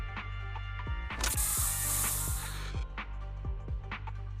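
A special Bangboo spray in the video game Zenless Zone Zero lets out a sustained, loud hiss for about a second and a half. Repeated mechanical ratcheting clicks tick steadily before and after it.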